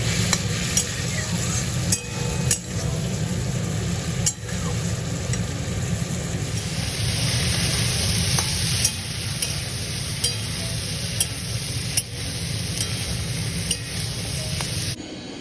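Poppy seeds fry in a pan with a continuous close sizzle and a steady hiss, broken by sharp taps of a spatula, and a low background hum runs underneath.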